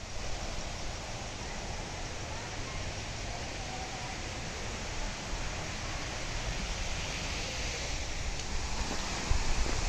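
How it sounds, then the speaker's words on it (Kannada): A waterfall at Varavi Siddeshwara Kolla near Savadatti, set among hills, gives a steady, even rush of water, faint and somewhat distant, with no voices. "ಈಗ ಜಲಪಾತದ ಹತ್ತಿರ ಬರ್ತಿದ ಹಾಗೆ ಜಲಪಾತದ ಶಬ್ದ ಕೇಳ್ತಾ ಬಂತು"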